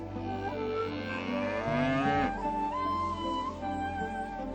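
A cow lets out a long, rising moo that swells and then breaks off, heard over a steady tonal background.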